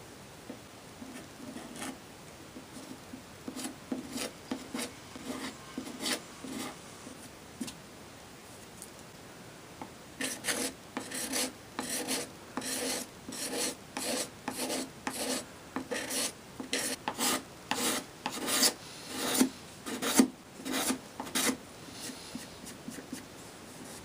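A hand scraper rasping across the wood of an antique pie crust table during repair, in repeated short strokes, sparse at first and then quicker and steadier, close and fairly quiet with no talk.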